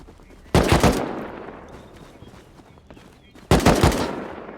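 AK rifle fire in the video game Rust: two separate loud bursts of rapid automatic shots, close by, each trailing off into a short echo, with no talking.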